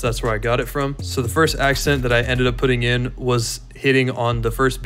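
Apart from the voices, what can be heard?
No distinct noise like a dog, phone or traffic.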